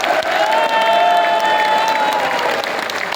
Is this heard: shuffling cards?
no